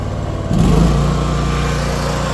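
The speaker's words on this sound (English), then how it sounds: "you're good to let out the winch cable" A winch motor pays out cable, starting after a brief pause with a steady, close mechanical drone that holds at an even level.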